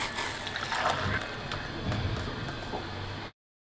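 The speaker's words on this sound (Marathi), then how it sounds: "पाणी आता गरम झालंय, तर ते ओतूया यामध्ये।" Hot water poured into a glass holding powder, a close steady trickling pour lasting about three seconds before cutting off abruptly, with no voices.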